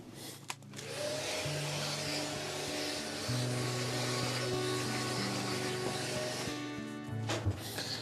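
A vacuum cleaner hoovers sanded wooden stair newel posts, a continuous loud whining drone with shifting pitch as the nozzle moves, starting after a brief knock and ending abruptly.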